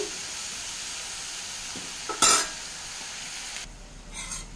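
Dill (soya) leaves frying in a pan give a steady soft sizzle, broken around the middle by a brief louder burst of crackle and scraping as they are stirred, then easing to a quieter hiss.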